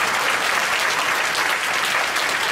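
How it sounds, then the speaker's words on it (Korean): A congregation at a Friday overnight church service breaks into sustained, loud applause, a dense, even roar of clapping filling the hall without pause. "박수 한번 쳐야 됩니다."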